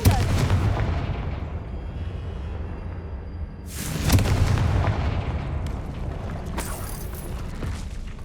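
Confringo fire spell blasting in Hogwarts Legacy, two heavy booming explosions a few seconds apart, each followed by a rumbling, crackling tail and scattered debris clatter, loud and close.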